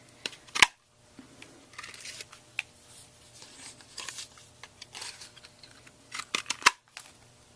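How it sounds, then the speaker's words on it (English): Scissors snip through white paper cardstock while a glittery unicorn card is being made. A handful of crisp, close cuts and light paper rustles come at irregular intervals in an otherwise quiet room. "I'm just going to cut a little bit off of the bottom there with my scissors"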